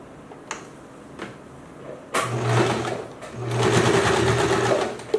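Two short clicks come first, then a sewing machine runs in two bursts, whirring and rattling as it stitches a towel, with a brief backstitch between.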